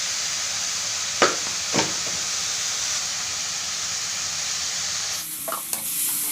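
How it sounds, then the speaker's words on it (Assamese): Amaranth greens frying in a pan with salt and turmeric are stirred, giving two short scraping strokes over a steady sizzling hiss, followed by a brighter burst of steam and spatter near the end. "নিমখ আৰু হালধি দিয়াৰ পাছত শাকখিনি এইদৰে লৰাই থাকিব।"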